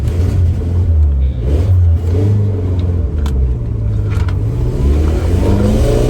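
1981 Dodge Challenger with carburetor and ignition trouble, engine revving up and down in repeated rising and falling pulls, loud and close, with a rough rumbling tone and no voices over it.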